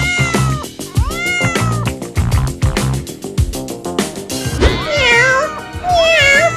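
Two kittens meowing over and over in a comic scene, sounding in quick high bursts and drawn-out rising cries, near and fairly loud, with no talking.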